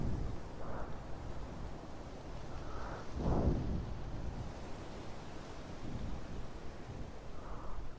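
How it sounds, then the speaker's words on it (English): Dust-storm wind in the battle-royale game PUBG roars as a steady, broad rushing noise with a few louder gusts, heard alone without talk. "Okay, it's a dust storm,"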